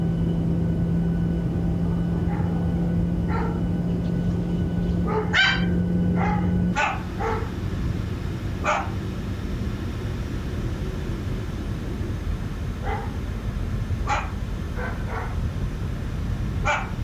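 Several dogs bark in scattered, sharp bursts at moderate distance over a steady engine drone from a small aircraft cockpit, with a low hum stopping partway through.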